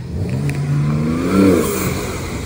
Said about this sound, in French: Oh là là c'est violent, c'est les Turbo S. On entend les turbos. Hein. Flat 6 plus les turbos.